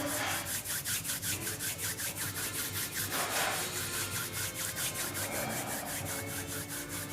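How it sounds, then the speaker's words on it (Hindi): Two hands rub briskly together in a steady back-and-forth rhythm, close and clear, a dry swishing friction repeated evenly throughout with no talking. "और एक प्यारी सी मुस्कान के साथ अपने हाथों को रगड़ेंगे"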